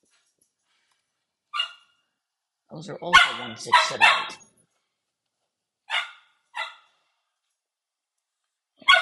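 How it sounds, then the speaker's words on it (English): A dog barks in the background in short, separate bursts spread across the stretch, while a person speaks briefly between them. "Forgive the dog barking in the background."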